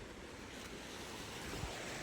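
Sea waves wash continuously onto a Gujarat shore where the water has risen up the beach, heard as a steady, fairly faint broadband surf hiss mixed with wind.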